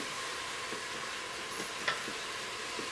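Ground beef cooking in a pot for pumpkin chili, a low steady sizzle with soft intermittent stirring taps and one brief clink, fairly quiet and close, without speech.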